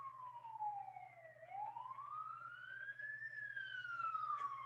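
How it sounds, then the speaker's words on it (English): An ambulance siren wails past at a distance, its pitch sweeping down and then rising and falling in one long smooth glide, faint and alone over a low steady hum. "an ambulance just went by"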